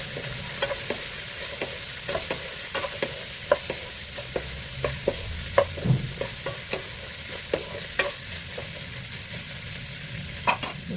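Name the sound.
stir-frying ground meat with carrots for pancit palabok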